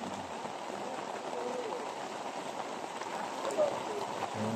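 Heavy rain pours steadily onto a bamboo greenhouse on a farm, a dense continuous hiss of drops on the roof that holds even and fairly loud throughout with no break.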